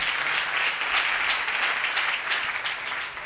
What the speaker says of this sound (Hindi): तालियां बजाकर बताएं।